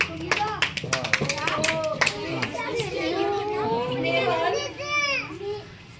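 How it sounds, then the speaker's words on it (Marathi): Classroom of schoolchildren clapping after a vote count in a school election for student chief minister, a burst of close, uneven hand claps mixed with excited children's voices and chatter. "टाळ्या"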